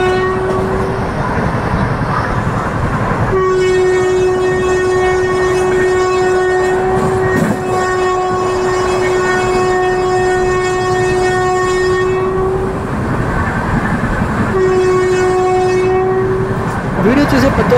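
The 17221 Kakinada–Mumbai LTT Express, hauled by a WAP-4 electric locomotive, picks up speed with a loud, continuous rumble of wheels and wagons, broken by long sustained horn blasts.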